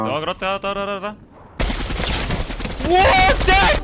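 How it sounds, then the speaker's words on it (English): In Fortnite, a Mark 7 assault rifle fires in loud, rapid bursts that start abruptly after a brief stretch of talking, and a voice speaks again over the later shots. "Epic didn't really do any experiments like this again until Chapter 3, with the addition of the Mark 7 assault rifle"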